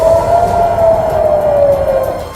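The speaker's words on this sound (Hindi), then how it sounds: "जिसके बाद वहां हमलों की चेतावनी के सायरन बजने लगे" An air raid warning siren wails loudly at Tel Aviv airport, one sustained tone slowly sliding downward, heard alone over low background rumble.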